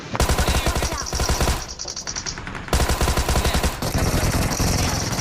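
Rapid bursts of automatic gunfire from a multiplayer shooter video game in a kills challenge, loud and close, with short pauses between volleys and no talking.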